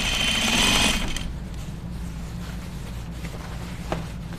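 A sewing machine hemming jeans runs with a fast, loud whir for about a second, then stops, leaving a low steady hum and faint handling sounds.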